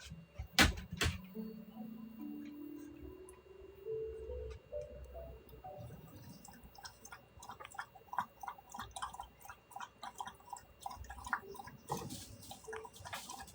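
A pet laps water steadily, giving a run of quick, soft wet ticks, close and moderately loud, after a short rising whine near the start; no one talks over it.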